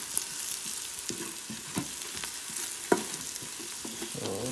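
Masala stirred in a pan over a low flame for chicken curry: a steady low sizzle with repeated spatula scrapes and taps, fairly close, with no voices.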